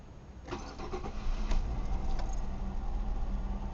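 A Chevy 3.1 engine with a faulty fuel pressure regulator cranks briefly, catches and settles into a steady, fairly loud idle close by, with no one talking.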